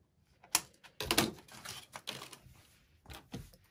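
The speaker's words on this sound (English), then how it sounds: "let me just grab a pair of scissors so we can cut the" Scissors snipping tags off a fleece blanket, a few quiet sharp clicks and cuts close by in an otherwise quiet room.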